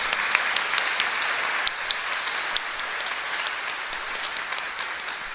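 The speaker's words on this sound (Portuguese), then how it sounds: "gostaria que a comunidade desse uma salva de palmas a esses nossos irmãos" A church congregation at Sunday Mass applauds steadily for several seconds, a dense patter of many hands clapping in a large room, fairly even throughout with scattered sharper claps.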